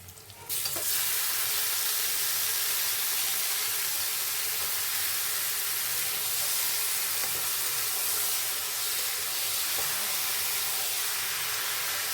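Mutton goes into a hot pan for a Bengali-style goat curry and bursts into a loud, steady sizzle that carries on without a break, steam hissing alongside, with no one talking.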